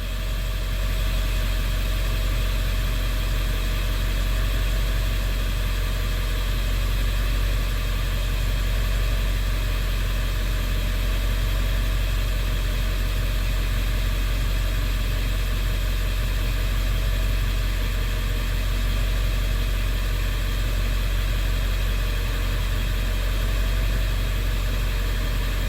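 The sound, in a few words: 7.3 Powerstroke diesel truck engine idling on Seafoam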